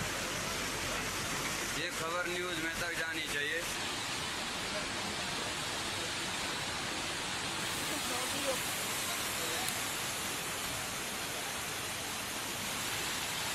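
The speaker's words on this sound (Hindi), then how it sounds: "उफनते नाले सड़कों के ऊपर से बह रहे हैं" Overflowing monsoon streams rushing across damaged roads in Rudraprayag, Uttarakhand, a continuous broadband roar of water, steady and fairly distant, with a brief burst of other noise partway through.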